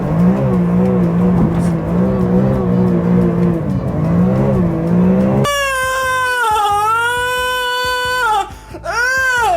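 A BMW E46 M3 engine revs hard while accelerating, its strong, loud drone rising and dipping for about five seconds before a different, higher whining tone takes over.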